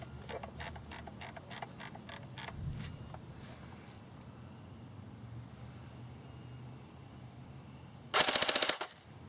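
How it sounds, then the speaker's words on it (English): An AGM MP008 M14 airsoft electric gun, run on an 8.4 volt battery, firing a fast full-auto burst near the end after a stretch of quiet; a row of sharp single shots is heard earlier, all close and with no talk. "Let's put it on full auto just to get a rate of fire."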